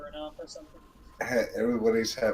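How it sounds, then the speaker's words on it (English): Someone clears their throat and gives a raspy cough, close and fairly loud, with voiced, hoarse rumbling in the second half. "You're coughing an awful lot."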